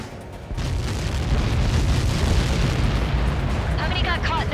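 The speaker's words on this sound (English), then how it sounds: "How many got caught in that explosion?" A missile impact explosion in Ace Combat 7 bursts in with a sudden deep roar and holds as a loud rumbling blast, with a voice chattering over the tail.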